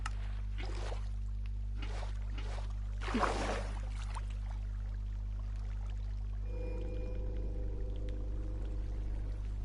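Water poured out of a bucket in Minecraft, a soft splashing wash of flowing water that starts partway through and continues steadily under a constant low hum, after a few earlier light clicks.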